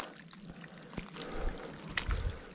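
Water pouring and trickling gently over rocks in a small wilderness stream, a soft continuous flow with a few brief splashes and footsteps nearby.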